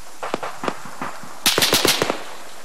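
Arma 3 gunfire rattles out in two bursts, a sparser string of sharp shots followed by a louder rapid volley, close and crisp with no voices over it.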